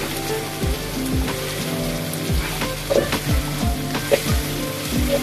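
Ginger-garlic paste sizzles with onions in hot oil for chicken wing korma, a steady crackling fry with bursts of stirring and scraping from a utensil, close and continuous.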